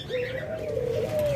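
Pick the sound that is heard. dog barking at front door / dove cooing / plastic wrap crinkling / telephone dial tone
dove cooing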